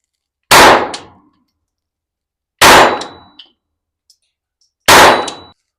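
Three sharp, loud reports from a SIG P322 .22 LR pistol ring out about two seconds apart, each a crisp crack with a quick metallic clang decaying behind it, and a faint tick or ping between shots.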